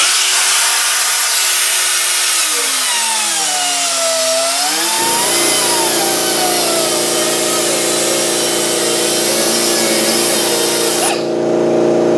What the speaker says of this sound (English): Just my regular die grinder, 90-degree angle die grinder with an 80 grit on the end.